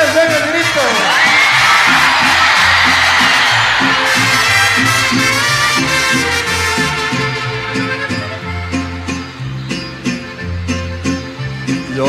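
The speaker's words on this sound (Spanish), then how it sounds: "Cuando yo levanto el sombrero, echen un grito todos." A concert crowd at a Mexican ranchera performance lets out a loud, sustained collective shout on cue, whoops and cheers swelling for several seconds before easing as music with rhythmic instruments carries on.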